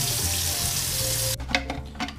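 Water pours over the bottom of a Marineland C-160 aquarium canister filter as a steady, close hiss for about a second and a half, then cuts off, leaving faint knocks and handling sounds.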